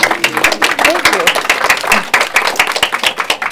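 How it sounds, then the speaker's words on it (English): An audience claps and applauds in steady, dense applause, loud and close throughout, with a few faint voices mixed in. "I would like to applaud you for sharing your story and for also your success story"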